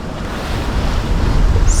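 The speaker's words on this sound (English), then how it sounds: "Oh, and then the wind dies down a bit." Steady wind and ocean waves while sailing to a small island off Mexico, a continuous loud rushing wash that swells slightly louder toward the end, with no talk.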